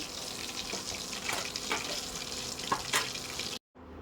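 Rohu fish pieces frying in oil: a steady crackling sizzle with light stirring scrapes and a few soft clinks, moderately loud, cutting off abruptly near the end.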